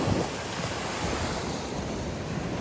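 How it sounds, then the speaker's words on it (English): Ocean surf rolls onto the shore at Gerroa, New South Wales, as a continuous broad wash of breaking waves with some wind buffeting the microphone, close and steady without speech. "Right out there, we've got our surf."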